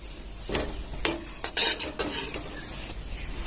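Grated coconut being dry-roasted in a kadai without oil or ghee, stirred with a utensil that scrapes and clinks against the pan in irregular bursts over a faint sizzle.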